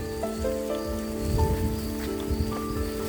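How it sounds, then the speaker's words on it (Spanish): Rain falls steadily on surfaces on the green coast at Paraty, Rio de Janeiro, a dense close patter with scattered drops and a faint tonal hum underneath, with no talking. "Como saliendo nos agarra un poco la lluvia."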